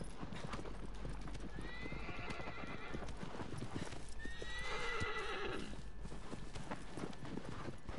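Horse hooves clip-clop steadily near a blocked main entrance, with a horse whinnying partway through over a dense, noisy outdoor background.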